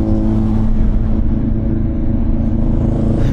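A CFMoto 450NK motorcycle accelerating hard to overtake on the road, a loud, close, sustained engine roar with steady rumble and no pauses.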